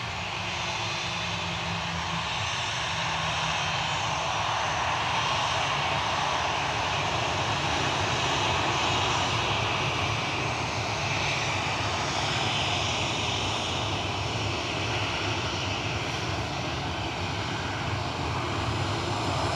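An airliner taking off from a runway roars continuously, a broad, heavy engine rumble building and holding for about twenty seconds as heard from the runway end, with no talking.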